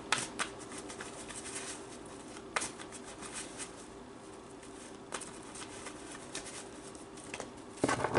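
Tarot cards being shuffled and pulled from a deck, a soft continuous papery riffle with a few sharper slaps and snaps, close by and fairly quiet, with no talking.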